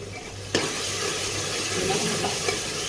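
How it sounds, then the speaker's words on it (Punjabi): Turmeric and red chilli powder fry in hot oil for a tarka tempering with a close, continuous sizzle. A sharp scrape of stirring comes early, with light clinks later. "ਮਸਾਲਿਆਂ ਨੂੰ ਆਪਾਂ ਚੰਗੀ ਤਰ੍ਹਾਂ ਭੁੰਨ ਲਾਂਗੇ"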